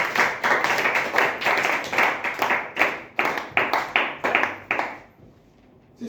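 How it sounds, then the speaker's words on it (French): A church congregation claps in fast, close, rhythmic bursts, many hands together, before the clapping dies away into quiet. "Acclame le Seigneur Jésus-Christ"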